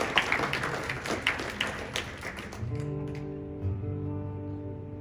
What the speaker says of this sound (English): could we have a nice round of applause for those people?